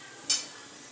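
Green chilies dropped into hot oil for sabudana khichdi give a sudden short burst of bright sizzle that quickly settles into a low steady background fry.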